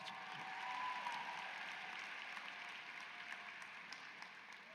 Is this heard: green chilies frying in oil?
no